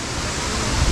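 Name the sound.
Bomod-OK waterfall in the rice terraces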